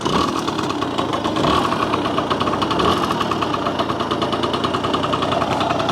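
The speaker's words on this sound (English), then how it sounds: "It'll start first kick every time if you do it right." A 1971 Yamaha JT1 Mini Enduro two-stroke engine idles steadily, a loud close buzzing rattle with a rapid even pulse throughout.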